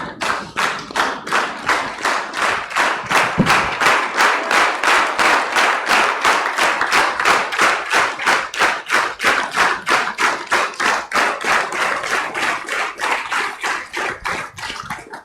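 Audience at a tribute event for Nacho Maldonado claps in unison, a loud, steady rhythmic beat of synchronized clapping sustained for the whole stretch, no talk.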